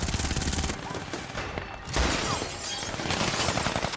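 Film battle gunfire from an M79 grenade launcher and a rifle fired fully automatic, a dense, continuous barrage of loud overlapping shots and crackling bursts with a heavier surge midway.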